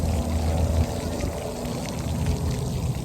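Water spraying at an outdoor splash pad, a steady rushing hiss and splatter that stays constant throughout, fairly close, with no voices.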